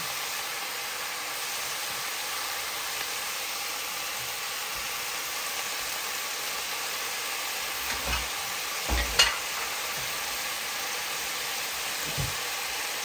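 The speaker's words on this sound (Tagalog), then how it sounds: "nagisa na natin yung ating isda" Salmon head pieces searing in a pan for sinigang, a soft continuous sizzle under an even hiss, with a few low knocks and scrapes near the end, close but fairly quiet.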